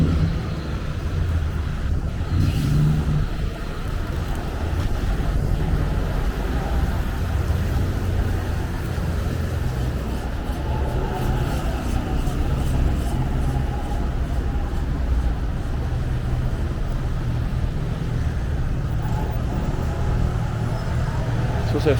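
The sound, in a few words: road traffic in Knightsbridge, London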